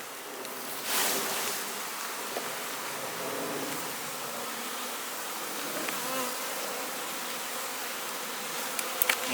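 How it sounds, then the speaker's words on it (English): Honey bees buzz steadily as they are shaken from a hive frame during requeening and splitting work, a dense, even drone that holds close and fairly quiet throughout. "A few extra shakes of bees."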